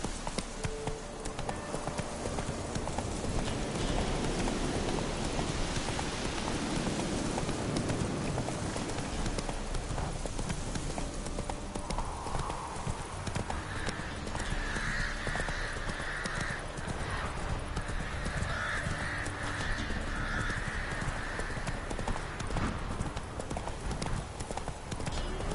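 Hooves clip-clop in a rapid, steady gallop as a horse runs in a PS4 video game, continuous and close, with faint bird caws and game ambience behind it.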